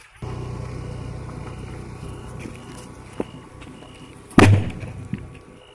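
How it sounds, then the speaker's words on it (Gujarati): A single sharp firecracker bang bursts out near the end over steady low background noise, with a fainter pop shortly after. "તો તમે અત્યારથી ફટાકડા ફોડો"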